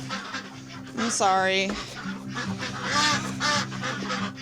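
Farm geese on a small Canadian sheep farm in winter honk loudly and nearby in a few short bursts, with a person speaking briefly over them.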